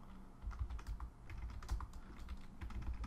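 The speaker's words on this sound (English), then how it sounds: "If I can type today, it would be amazing." Rapid typing on a computer keyboard, keys clattering in quick irregular bursts at close range with no talk, fairly steady throughout.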